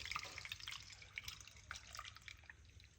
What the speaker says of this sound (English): we're gonna just simply pour it out